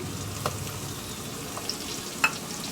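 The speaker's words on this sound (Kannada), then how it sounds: "ಇದನ್ನು ಒಂದು 2 ನಿಮಿಷ ಚೆನ್ನಾಗಿ ಫ್ರೈ ಮಾಡ್ಕೊಳ್ಳೋಣ. ತಿರ್ಸ್ಕೊಂತ ಫ್ರೈ ಮಾಡಬೇಕು" Mint and coriander leaves fry in a pan for bagara rice, giving a soft, steady sizzle with a few light scrapes and taps from stirring. No one speaks.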